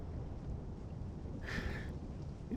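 Video game thunder rolls faintly under a steady rain-like hiss, swelling into a brighter crackling burst midway before settling back into the low rumble.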